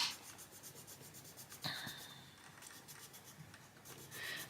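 Coloured pencil strokes rubbing steadily across paper, close and faint, a soft continuous scratchy rasp with a couple of sharper scuffs, no talking over it.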